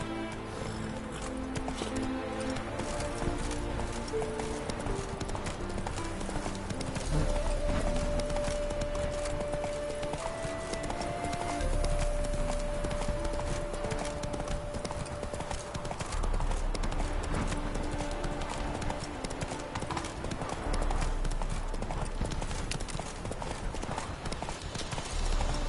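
Roach the horse gallops steadily in The Witcher 3, hooves clopping in a quick continuous rhythm over game music and ambient sound, close and sustained throughout.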